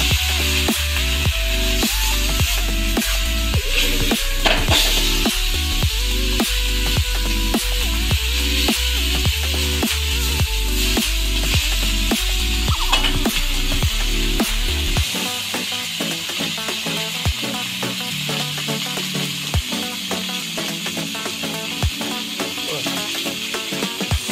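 Sea fish with masala fries in hot oil, a continuous close sizzle and crackle with some clinks and stirring clatter, the sound thinning and popping more sparsely in the latter part.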